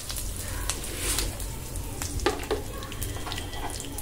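Curry leaves crackle and sizzle in hot oil with popping mustard seeds and urad dal, a steady loud frying hiss with a few sharp spits, no voices.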